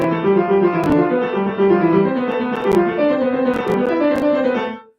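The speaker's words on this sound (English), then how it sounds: "there is a little bit of a Hannon quote toward the end" A piano runs through a Hanon exercise passage quoted in a piece, rapid repeating note patterns with a few sharper accents, played cleanly and alone before fading at the end.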